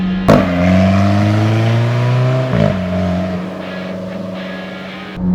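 An Alfa Romeo 4C Coupe with a dual-clutch transmission pulls away on the street, its engine note climbing under acceleration, briefly dropping at a gear change, then rising again, loud and close.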